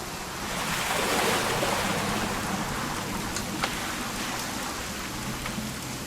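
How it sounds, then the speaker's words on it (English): Steady rain pours in the video game What Remains of Edith Finch, a dense continuous hiss of drops on surfaces with a low rumbling undertone, heard alone without talk. "It's gonna rain the whole weekend"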